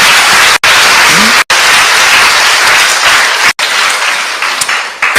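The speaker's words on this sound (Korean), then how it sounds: "박수로 하나님께 영광 드립니다. 박수로." Sustained, loud applause fills a church hall as the congregation claps together at a patriotic forum lecture, steady and dense with a few abrupt breaks.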